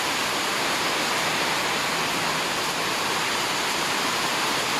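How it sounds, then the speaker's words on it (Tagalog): Heavy rain pours outdoors on a hillside farm field during a typhoon. A steady, dense, loud hiss holds without a break. "Grabe, ulan no?"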